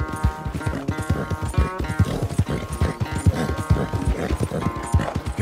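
Close, rapid hoof clip-clops from a horse in a corral in Red Dead Redemption 2 form a busy, uneven rhythm throughout, with a faint whinny mixed in.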